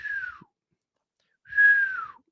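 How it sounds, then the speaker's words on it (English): A person with dry lips attempts to whistle, producing two thin, downward-sliding whistle tones separated by a short silence, fairly close and heard alone. "I can't even whistle right now, dude. My lips are so dry."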